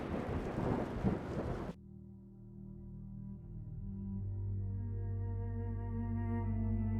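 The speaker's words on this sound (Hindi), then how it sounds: "उस रात खूब बारिश हुई।" A dense wash of heavy rain fills the first couple of seconds, then breaks off into a deep, sustained rumble like rolling thunder that swells gradually.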